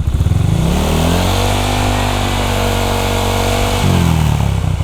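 A motorcycle fitted with an AHM standard racing exhaust revs steadily nearby, its loud, rough droning note rising and holding before dropping back to a lumpy idle near the end.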